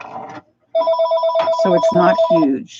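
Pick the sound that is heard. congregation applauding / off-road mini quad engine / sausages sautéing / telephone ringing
telephone ringing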